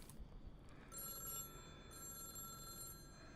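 A telephone rings in the horror game The Dark Delivers, two faint, repeated electronic bursts of trilling bell tone, quiet under a low background hiss.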